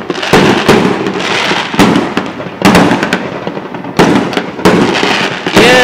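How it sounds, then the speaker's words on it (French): Fireworks burst over Beirut in a rapid string of loud, sharp cracks and booms, some overlapping, with crackling tails filling the gaps between blasts. "Toujours des feux d'artifice pour rien faire."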